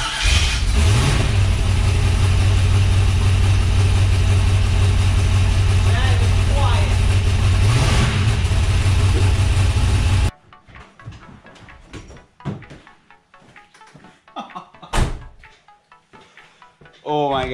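A car engine fired up after a boost valve install, running with a steady loud drone and a couple of revs for about ten seconds, then cutting to quieter clatter and shuffling noises.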